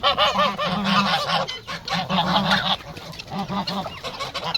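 A flock of large white Çorum geese honking loudly and close by as feed is thrown to them, with repeated overlapping nasal calls in quick bursts.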